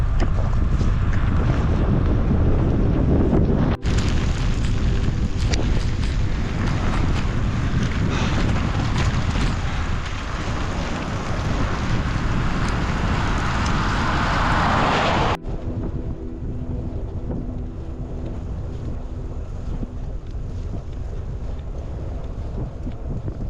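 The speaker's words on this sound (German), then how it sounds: "mit richtig kräftigem Wind von der Seite" Strong crosswind buffets the microphone throughout a road and gravel bike ride on a 200 km brevet near the Baltic seaside town of Grömitz, a loud continuous roaring rumble that eases slightly toward the end, with no voices.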